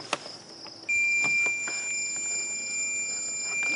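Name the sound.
multimeter continuity test beeping on Honda Rancher cable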